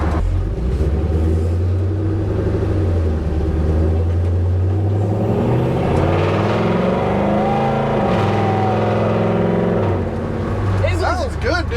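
Ford F100 truck with a swapped Coyote V8 rumbling deep and loud while driving, revs rising and falling over a constant low drone, with a person talking over it.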